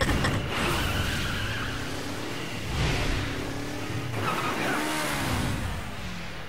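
In the Resident Evil 6 video game, a car engine drones while tires squeal and skid in repeated surges, loud and close, with no talking over it.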